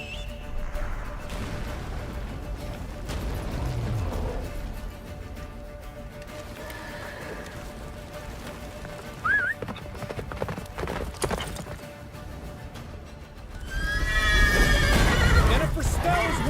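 Roach, Geralt's horse in The Witcher 3 video game, gallops with steady hoof clip-clop throughout, a whinny breaking out near the end as the pace grows louder, with game voices and background score underneath.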